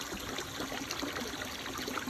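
Water runs steadily into a pool from an electronic autofill valve in a continuous trickling flow, a soft, even rush with no voices.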